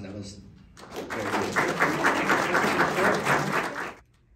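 An audience at a legislative candidates' debate applauds, a steady round of clapping building for about three seconds before stopping abruptly into quiet room tone.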